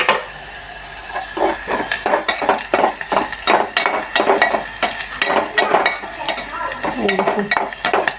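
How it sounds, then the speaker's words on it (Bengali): Whole spices for tempering sizzling in hot oil while a utensil stirs and scrapes the pan, a busy crackle with repeated metallic taps and scrapes, close and fairly loud, no talking. "এগুলো দিয়ে আমি ফোড়ন দিচ্ছি। এটা লাল করে ভেজে নেব।"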